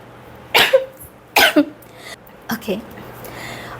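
Several harsh coughs come close together in short pairs, loud and near, followed by a couple of weaker throaty coughs.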